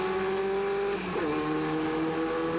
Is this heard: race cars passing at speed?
yes